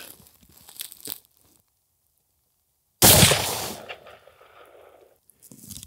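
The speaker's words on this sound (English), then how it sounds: "Let's shoot a group and see what happens." A 6.5 Creedmoor round fired from a .308 rifle goes off in one sudden, loud crack with a decaying echo after a stretch of silence, framed by faint rustling and handling noises.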